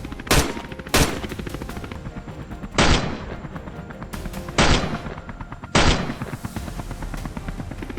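Five sharp, loud gunshots ring out at uneven intervals during a wild boar hunt from a helicopter, each one echoing and decaying over a constant rotor drone.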